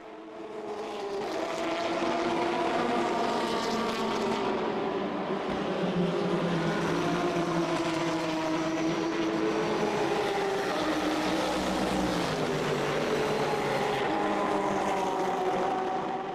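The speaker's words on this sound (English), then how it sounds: "The Porsche 997 GTR3 from Attempto Racing 1 is up against the Mercedes SLS with the number 19 from GDL Racing." Porsche 997 GT3 and Mercedes SLS GT race cars dueling at the Dubai 24 Hour race, their engines roaring continuously with rising and falling pitch, loud and sustained without pause.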